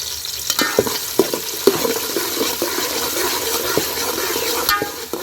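Onions and chillies fry in a pan, a loud continuous sizzle close by, broken by sharp spoon scrapes and taps as the pieces are stirred.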